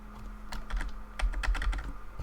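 Computer keyboard keys are tapped in a quick irregular series, close and fairly quiet, with a faint steady hum behind them.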